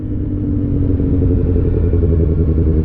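A motorcycle engine droning steadily while being ridden on the road at sunset, a loud, close, continuous rumble with a gently pulsing low tone and no talk over it.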